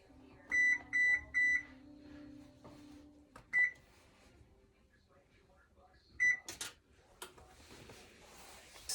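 An oven control panel is being set to 350 degrees, giving a run of four short electronic beeps, then a single beep, then another beep a few seconds later, among soft kitchen handling noises.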